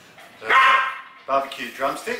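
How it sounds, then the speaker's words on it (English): A dog barks a few times near a street-food barbecue stall on a hot day, the barks loud and mixed with someone talking over them. "that's our dog barking, in case you're wondering"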